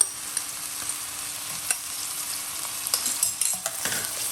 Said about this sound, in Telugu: దీనిలోనేమో ఫస్ట్ ఆనియన్స్ వేసేసి అల్లం వెల్లుల్లిపాయ పేస్ట్ని వేసేస్తున్నాను